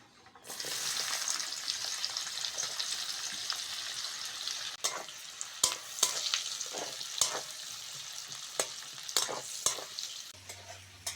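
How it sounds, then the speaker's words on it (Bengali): Chopped onion frying in oil left over from frying small fish for a village-style thin fish curry with taro, a steady close sizzle throughout with intermittent stirring clatters and utensil scrapes, no talk. "মাছ ভাজা তেলের মধ্যে কুচনো পেঁয়াজটা দিয়ে দেবো"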